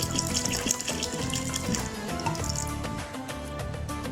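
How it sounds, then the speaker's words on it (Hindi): Water pours steadily into a pan of washed wheat in a home kitchen, a continuous close splashing and gurgling fill with no talking. "तो अब इसमें ऐड कर देते हैं पानी।"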